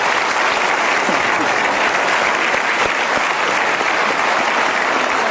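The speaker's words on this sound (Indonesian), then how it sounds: "Kita berikan aplaus untuk sang ibu." A large studio audience at a television talk show claps loudly and continuously for a mother, a dense, even roar of applause with no pause.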